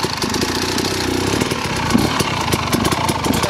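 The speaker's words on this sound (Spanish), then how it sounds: "lo que hacemos es meter primera la moto parada y vais aguantando la moto con el embrague" A motorcycle idles in first gear while stopped, with the rider holding the clutch during hill-riding practice. The engine runs as a loud, continuous, close chug throughout.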